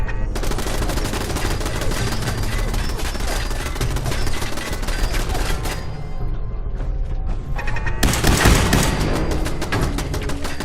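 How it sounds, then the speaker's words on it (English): Two ceiling-mounted machine gun turrets in the game Fallout 4 fire in sustained, loud bursts, a dense rattling barrage with a brief lull before another burst of heavy gunfire. "we come under heavy fire from 2 machine gun turrets mounted on a ceiling"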